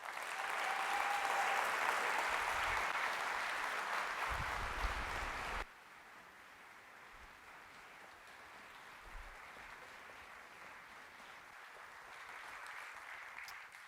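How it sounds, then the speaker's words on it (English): Applause from an audience at a Fast Pitch 2019 event, a broad, steady clapping that drops suddenly to a quieter, thinner level midway and then swells a little again toward the end. "Let's give Kristen one more round of applause"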